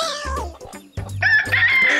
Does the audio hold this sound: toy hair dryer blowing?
no